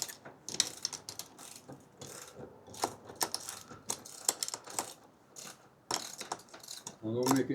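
A ratchet tightens the fittings of an XTM awning on a Track Star camper, close, in quick bursts of sharp clicking strokes with short pauses between them.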